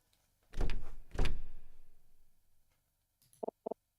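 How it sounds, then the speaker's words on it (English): A stuck train car door in the game Detective Instinct: Farewell, My Beloved, yanked twice with heavy rattling thuds that rumble away, then a few short metallic clicks. "can't get this door open."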